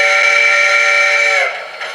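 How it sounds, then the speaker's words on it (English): An Alamo, Michigan plant steam whistle reproduced by a TCS WOW Heavy Steam model train sound decoder gives one loud, steady tonal blast that cuts off and trails away into a brief fading tail. "Michigan plant whistle."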